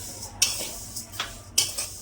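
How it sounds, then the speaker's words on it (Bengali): Mung dal frying in a pan with a utensil scraping and stirring, giving three sharp clattering strokes spaced through a quiet background, close by and without speech. "মুগ ডাল ভাজছি"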